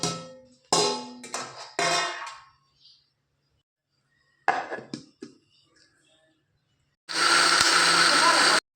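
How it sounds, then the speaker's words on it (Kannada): A kitchen mixie grinds fish curry masala for a Mangalorean-style fish curry: a steady, loud whirring motor drone that starts abruptly near the end, after stretches of close speech and faint handling clatter. "ಇದೆಲ್ಲ ಈಗ ಮಿಕ್ಸಿಯಲ್ಲಿ ಗ್ರೈಂಡ್ ಮಾಡುವ."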